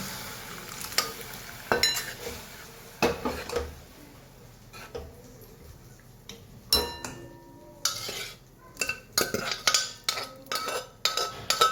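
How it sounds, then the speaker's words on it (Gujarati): Chana dal tips into a pan of oily spinach curry and is stirred in, giving a soft sizzle under repeated sharp clinks and scrapes of a spoon against the pan, irregular and close, without talk. "આપણે એમાં દાળ એડ કરી દઈએ"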